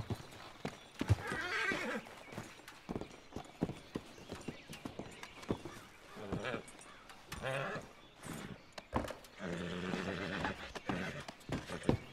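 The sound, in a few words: horse in Red Dead Redemption 2 video game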